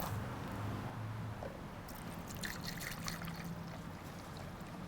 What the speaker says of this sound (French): Donc je vais mettre mon eau.